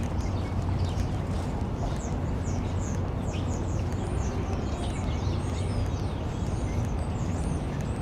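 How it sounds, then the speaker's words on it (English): Birds chirp in short, repeated high calls over steady city traffic noise on a downtown Toronto street in early spring, the calls clustered in the middle. "The sound of birds chirping."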